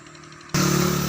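Motorcycle engine outside a roadside repair shop, starting up halfway through and then idling loudly with a steady, throbbing low rumble after a quieter stretch of background noise.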